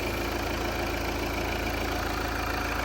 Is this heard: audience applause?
no